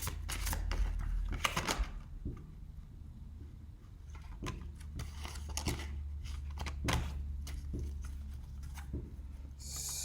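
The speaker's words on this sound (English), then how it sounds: "I'm going to pull two cards from this deck" Tarot cards drawn from a deck, giving several close, crisp papery slides and snaps at irregular moments over a low, steady background hum.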